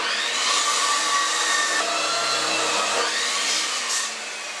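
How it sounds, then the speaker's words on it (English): A chop saw cuts through metal stock for press brake dies in a steady loud whining roar that holds for several seconds nearby before easing off at the end, with no voices. "so I'm taking over the chop saw,"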